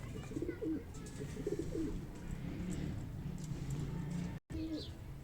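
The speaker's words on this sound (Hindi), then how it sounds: "एक ये कबूतर है जी," Soft, low pigeon cooing repeats several times against a steady murmur of background noise, with a brief dropout near the end.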